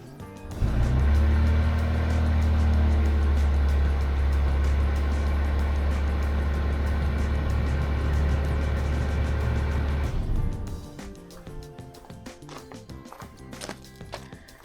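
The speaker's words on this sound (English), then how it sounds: "we're going to try it with the truck running" A Toyota Tundra pickup truck idles with its engine running, a steady loud low rumble for about ten seconds, then cuts off, leaving quieter clicks and faint noises.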